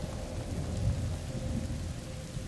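Steady rain and low thunder rumble through a stormy scene in the video game A Plague Tale: Innocence, a continuous wash of rainfall with a rolling deeper swell, no voices.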